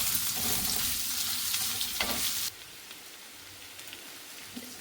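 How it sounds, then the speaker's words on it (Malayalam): Chopped shallots sautéing in a pan, a loud sizzle with a couple of stirring scrapes that suddenly quiets to a softer, steady fry halfway through. "അത് ഇതിലേക്ക് ഇട്ട് കൊടുക്കാം ഇനി ഒന്ന് വഴറ്റെടുക്കാം"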